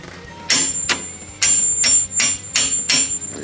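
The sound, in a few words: hammer tapping out a temporary bolt on DeLorean coilover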